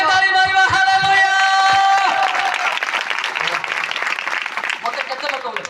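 Congregation clapping at a church service after a Hallelujah call, a dense burst of applause starting just after a sustained sung or held tone and continuing steadily to the end.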